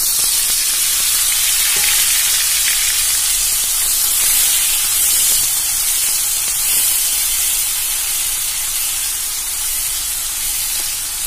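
Chilies, tomato, salt and turmeric frying in a pan for mint chutney give a steady, loud sizzle and hiss that continues evenly throughout, with no talking.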